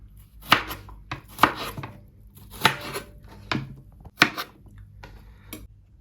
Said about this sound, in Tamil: இந்த மாதிரி ரவுண்டாக வெட்டி அதை பிறகு 2 ஆக்கி போட்டு பிறகு இப்படி நீளமாக வெட்டி பிறகு அதை சின்னதாக வெட்டணும்